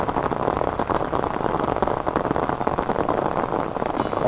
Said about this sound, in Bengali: যেই বৃষ্টি আরম্ভ হয়েছে